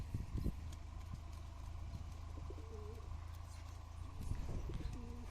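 Pigeons in a loft cooing softly, a few low rounded coos scattered over a quiet background with some faint knocks and shuffling.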